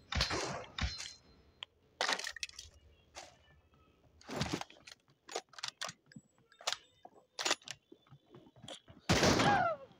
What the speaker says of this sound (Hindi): ओ भाई, शॉट पड़ा था